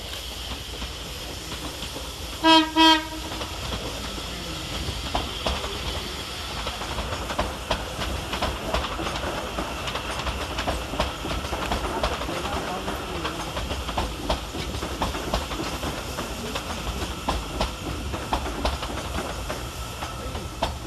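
A Class 397 TransPennine Express electric train running eight minutes late pulls into Carlisle station with a steady rumbling roll and wheel clatter, a brief two-tone horn sounding early on, no talk.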